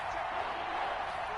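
Steady roar of a stadium crowd in an American football video game, a dense, even wash of cheering voices held at a constant level with no distinct breaks.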